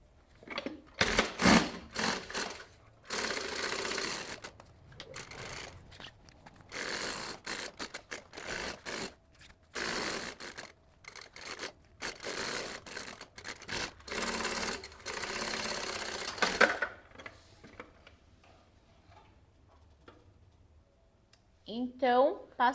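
Sewing machine stitching a seam on a maternity bag with a cut-out panel, running in repeated bursts of rapid whirring with short pauses, with talk over parts of it.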